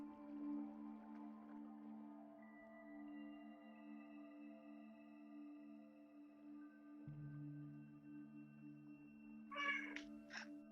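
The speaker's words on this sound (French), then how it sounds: "Miaou, mais oui." A cat meows indoors during a quiet yoga session, its brief calls rising near the end of the stretch over steady tonal background hum.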